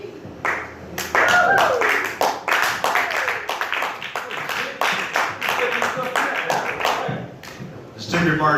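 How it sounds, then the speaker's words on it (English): A comedy club audience claps for a comedian taking the stage, loud close hand claps in a sustained burst with some cheering and voices mixed in, fading briefly before swelling again at the end. "Please, round of applause for the very funny O.G."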